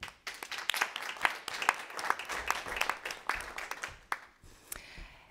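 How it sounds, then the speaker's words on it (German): Audience applause at a Swiss brand congress, a crowd clapping with distinct individual claps standing out, moderately distant, tapering off toward the end. "Einen großen Applaus für Andy Baldauf."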